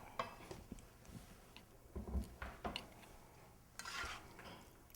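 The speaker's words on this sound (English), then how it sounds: "and then we stir them up" Boiled red potatoes being stirred for an enchilada casserole, a few quiet scattered clinks and scrapes of a utensil against a dish at close range.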